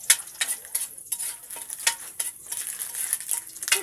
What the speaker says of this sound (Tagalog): Hihintayin namin yan na brown yung bawang